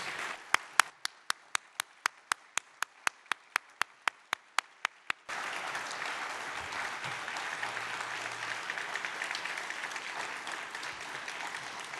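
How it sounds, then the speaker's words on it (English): Audience applause for candidates standing at an evening election forum, opening with a run of single sharp claps that swells at the midpoint into dense, sustained applause from the whole room, with no voices heard. "I would like all of the candidates to please stand and accept a hearty round of applause from the audience."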